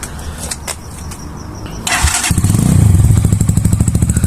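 A Vortex motorcycle fitted with a Chinese aftermarket exhaust starts up after some clicking and handling noises, then settles into a loud, steady, rapidly pulsing idle close by.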